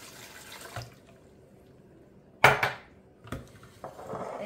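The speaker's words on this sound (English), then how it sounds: "And I'm gonna put 2 cups of water here." Water from a tap splashes into a metal pot while preparing red posole, with a sharp clink of cookware and a few brief clatters, close and alone in a quiet kitchen.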